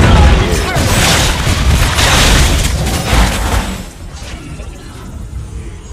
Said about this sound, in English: Your team destroyed the turret.